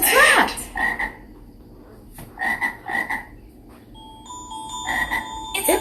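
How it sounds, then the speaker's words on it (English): A frog croaks in loud, repeated rasping bursts, several calls spaced over a few seconds and heard clearly alone, with a faint electronic tone entering later. "It's a frog."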